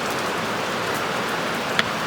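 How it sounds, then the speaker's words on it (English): Steady rain falls outdoors, a continuous even hiss of drops on surfaces with no pauses, plus one brief sharper tick near the end; no one speaks. "Okay, since it's raining"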